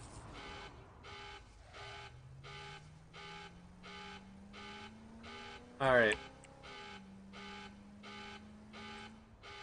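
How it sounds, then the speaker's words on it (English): A steady electronic beep from a car in a video game repeats at an even, rapid rhythm throughout over a low engine drone, with a brief spoken word partway through. "Got an annoying beeping sound."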